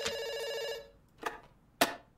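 Video game telephone ringing: the tail of one ring fades out, followed by two short, sharp ring bursts spaced about half a second apart, loud and without voices.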